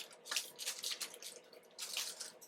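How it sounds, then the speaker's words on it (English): Small splashes of water drip by hand onto pot pie dough in a kitchen, a few soft irregular patters close by, separated by short quiet gaps. "Just drop some water"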